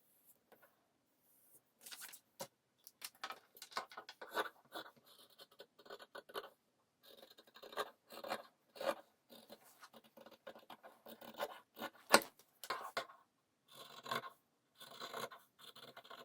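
Scissors cutting fabric for a handmade messenger bag, quiet irregular snipping and rasping strokes in short bursts, close up with no talk.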